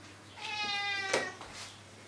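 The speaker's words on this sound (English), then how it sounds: "Hello, puss cat. Meow." A domestic cat gives a single clear, drawn-out meow up close, with a short fainter call trailing after it.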